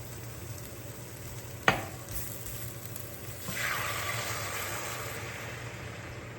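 Beef curry stir-frying in a pan: a quiet background sizzle, a sharp clack of a utensil against the pan, then a louder rush of frying as ingredients are stirred.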